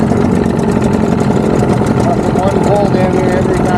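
An outboard motor drives a 14-foot semi-V boat out on the water, running steadily and loud at close range with a constant droning hum throughout, and occasional faint voices mixed under it.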